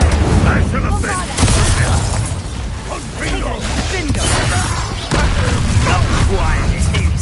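An Incendio fire spell is cast in a Harry Potter game battle, with loud whooshing bursts and booming impacts among clattering combat noise, while voices shout over the fight.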